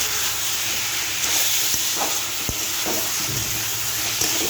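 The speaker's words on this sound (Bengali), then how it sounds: "মশলা কষাটার মধ্যে আমি দিয়ে দেব আলু। আলু দিয়ে ভালো করে নাড়া দেবো।" Potatoes being stirred into a spice masala frying in a pan, a steady loud sizzle with scraping spoon strokes through it.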